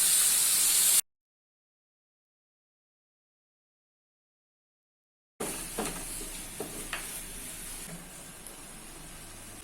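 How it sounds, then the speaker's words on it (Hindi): Mutton keema cooks with spices in a pan over a low flame: a short burst of sizzling, then a long silent gap, then a softer sizzle with scraping, clattering stirs. "कीमा को मसालों के साथ अच्छे से मिक्स कर लिया है"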